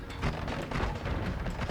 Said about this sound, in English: How did they not die from that explosion?